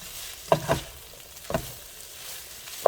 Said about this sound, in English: I'm going to mix all this together. Let it all combine.